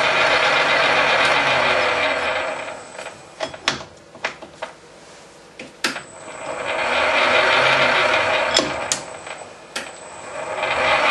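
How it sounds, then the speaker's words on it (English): A lathe main shaft runs through its reversing gear with a steady mechanical whir that fades to quiet in the middle, broken by sharp clicks and knocks, then swells back up, close and fairly loud. "Now it's run anti-clockwise, that's for cutting left or right hand thread."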